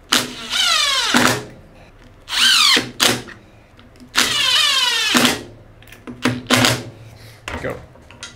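A power drill drives a screw into a wooden bowl blank on a workbench. Three long whirring bursts rise in pitch, followed by several shorter pulses, loud and close.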